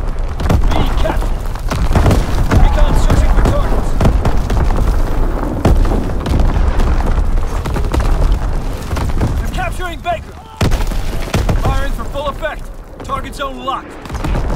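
Heavy artillery battery booms and explosions in a Call of Duty-style multiplayer shooter, a dense continuous roar of blasts and gunfire with radio-style voice callouts over it.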